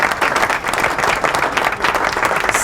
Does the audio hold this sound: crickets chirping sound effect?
no